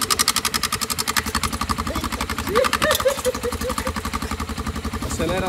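A Honda XRE motorcycle with a modified exhaust runs close by, its engine pulsing in a steady, rough rhythm with a brief rev partway through, while people talk loosely in the background.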